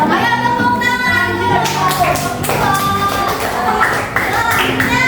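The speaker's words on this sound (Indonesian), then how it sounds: "Ayo tepuk tangan." Children in a classroom clapping together in a rhythmic patterned clap, loud and close, with voices and music-like tones mixed in throughout.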